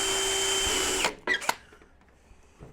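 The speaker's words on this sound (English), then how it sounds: "the first thing I'm going to do is have to drill 6 number holes in the top of this roof" A power drill with a boring tool drills holes in an RC car roof, a close steady whirring for about a second that stops abruptly, followed by a few short clunks and scraping sounds.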